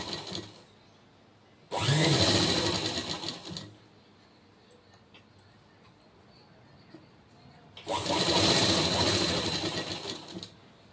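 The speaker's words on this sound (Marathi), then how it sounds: "ही पट्टी ठेवून पूर्ण शिलाई करायची" A sewing machine stitches a fabric strip onto a blouse sleeve in two loud, steady bursts of rapid needle chatter separated by a quiet pause, with no talking.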